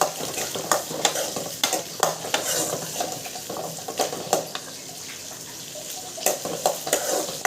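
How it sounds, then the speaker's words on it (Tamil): Shallots, garlic and curry leaves sautéing in a pan for a Tamil shallot-garlic curry, with steady sizzling and frying crackle and repeated sharp clinks of a spoon stirring against the pan, close and alone without talk. "ஒரு கை சின்ன வெங்காயம், ஒரு கை பூண்டு, கொஞ்சம் கருவேப்பிலை ஆட் பண்ணி நல்லா வதக்கிக்கோங்க."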